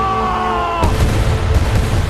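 A miniature ship blowing up in a water tank set for a film, one sudden heavy boom cutting off a sustained tonal sound, followed by a rumbling, crackling tail.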